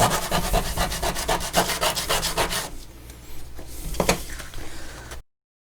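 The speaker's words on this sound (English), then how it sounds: "Now we can sand off the corners a little bit." A workshop saxophone piece has its corners sanded, with rapid rhythmic back-and-forth rasping strokes, loud and close, that slow into a few scattered scrapes and rubs before stopping abruptly.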